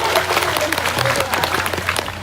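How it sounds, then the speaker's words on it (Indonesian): An audience at an Islamic religious gathering in Zhongli, Taiwan claps steadily, a dense, fairly loud round of applause from a crowd that holds through the moment with scattered voices mixed in. "Ayo, boleh berikan tepuk tangan dulu."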